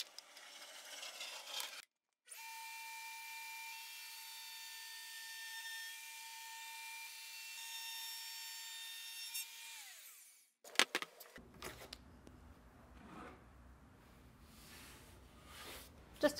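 A router fitted with a roundover bit whines at a constant high pitch for about eight seconds while shaping plywood corner edges. Quieter handling clatter comes before and after the cut, and no one speaks.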